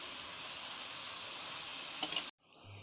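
Steady loud sizzling of palak spinach and chicken gravy frying in a pan, a brief burst of crackle near the end before it cuts off abruptly to near silence.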